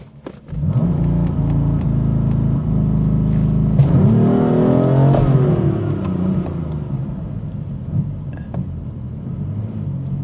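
A BMW M4 on a launch control attempt holds a steady, loud, deep rev, then the engine note climbs and wavers as the car pulls away, settling into a continuous rumbling drone, heard up close from inside.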